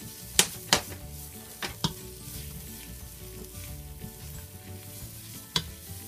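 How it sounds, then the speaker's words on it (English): Vegetables coated with chili powder stirred in a pot for homestyle chili, a steady sizzle under several sharp spoon knocks against the pot, loudest near the start and one more toward the end, with no talk. "And now I'm adding 3 tablespoons of chili powder and get that stirred in all good, coating the veggies"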